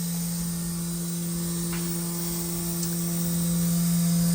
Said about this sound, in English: Spindle is on, and it's moving.